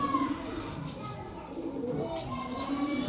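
Soft, low cooing of black-headed, white-eyed pigeons repeats through a steady background murmur, with faint voices mixed in.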